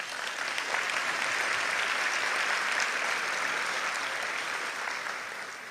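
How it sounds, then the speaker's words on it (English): Sustained applause from a large audience, dense and steady clapping that holds for several seconds before tapering slightly at the end. "So let's give them a round of applause,"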